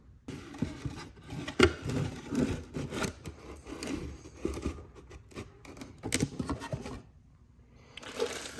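A cardboard box of dirt bike top-end parts being opened, with close crinkling, tearing and handling clatter in irregular bursts, and a short quieter pause near the end.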